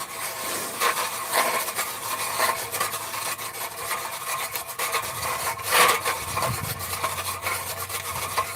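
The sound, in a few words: hand auger boring a hole through ice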